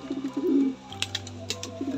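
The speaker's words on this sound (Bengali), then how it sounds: "দেখুন পায়রা দুটো দেখুন" Pigeons in a loft give a run of low, rolling coos, then a quieter second phrase after a pause, close and fairly soft, with a few light clicks and rustles between.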